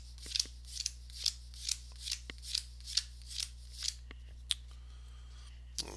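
Playing cards snapped out one by one from a deck for a tabletop basketball game, about ten crisp swishing flicks in a steady rhythm, close and distinct over a low steady hum.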